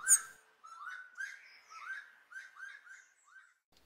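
Birds call and sing while out birdwatching: a quick series of bright chirps and short whistled phrases, repeated at an even pace, fairly faint and with no talk.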